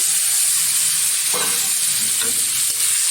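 Shrimp and a pinch of turmeric powder sizzle and fry in hot oil in a wok, a steady close hiss with occasional crackles and stirring scrapes, no voices.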